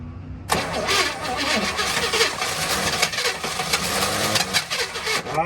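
A barn-find 1967 Chevy engine cranks on the starter, then catches and runs roughly for a moment, loud and close with a steady churning drone throughout.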